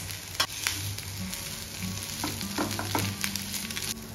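Leftover rice sizzles and crackles steadily in a hot pan for bomb fried rice, with scattered clicks and scrapes of stirring throughout and no voices.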